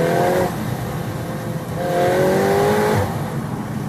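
An eighth-generation Volkswagen Golf R engine hums and swells as it revs and accelerates through a tunnel, loud and reverberant with a whooshing roar, rising in pitch twice.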